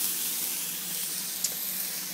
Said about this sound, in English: it's about to go in the frying pan